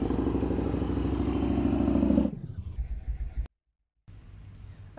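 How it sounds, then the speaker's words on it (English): A motorcycle engine rumbles loudly as the throttle is opened for about two seconds, then drops back to a rough idle with some clatter, cuts out briefly, and returns at a lower idle. "He's getting the throttle up a little bit. See, then he lets off the throttle."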